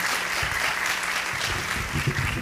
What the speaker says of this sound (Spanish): un aplauso a los panelistas que han hecho un trabajo extraordinario